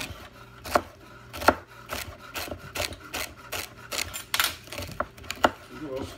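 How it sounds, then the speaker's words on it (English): A knife chops celery stalks on a cutting board for a chopped salad, striking in an uneven series of sharp, close thuds over a low background hum. "So now we're going to chop to go in our chopped salad."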